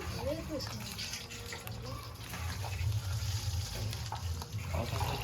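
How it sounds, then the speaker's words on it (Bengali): Milk pours from packets with a soft liquid gushing and splashing, heard under people talking nearby. "এই যে সব প্যাকেটের দুধগুলো ঢেলে দিচ্ছি"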